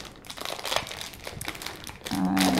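Crinkly plastic packaging of a set of scrapbooking stickers being handled and pulled open up close, a continuous rustling with a brief louder crackle near the end.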